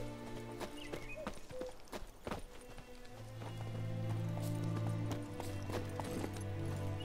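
Horse hooves clip-clop at a gallop in The Witcher 3, a steady rhythmic pounding that grows louder and denser partway through, with no talk over it.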